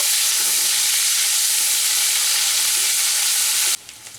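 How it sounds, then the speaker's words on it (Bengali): Chopped medium-sized onion fries in a hot pan with a loud, dense, continuous sizzle close by, cutting off abruptly near the end, no voices present. "পেঁয়াজটা একটু জাস্ট ভেজে নেব।"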